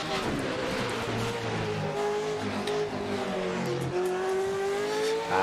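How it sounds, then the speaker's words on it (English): A V8 Judd-engined S1 race car in Assetto Corsa accelerates on a tarmac hill climb, its engine note climbing steadily through the gears with a loud, continuous snarl heard alone. "This is the V8 Judd engine car, the S1 version."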